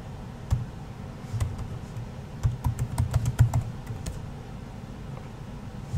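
Password typed on a computer keyboard, a quick irregular run of light key clicks in small bursts, close and fairly quiet over a faint background hum.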